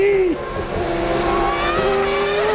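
A Williams Formula 1 car at the 1995 San Marino Grand Prix sliding sideways under braking, a sharp tyre squeal and engine whine under a commentator's excited voice, brief and loud.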